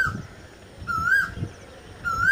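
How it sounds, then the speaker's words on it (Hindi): An Asian koel calls from a village orchard with its rising whistled note repeated three times at a steady pace, clear and fairly close over a low background rumble. "कोयल है,"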